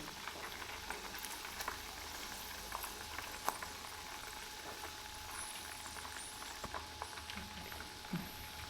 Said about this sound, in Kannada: ನೋಡಿ ಈ ಥರ ಸೌಂಡ್ ಬರುತ್ತೆ ಇಷ್ಟಾದರೆ ತುಪ್ಪ ಆಯಿತು ಅಂತ